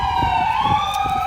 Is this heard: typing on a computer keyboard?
no